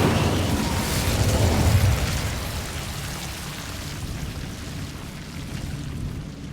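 A fiery Incendio spell blast in Hogwarts Legacy bursts loudly at the start, then rolls into a sustained crackling, rain-like roar of flames that stays fairly steady and close.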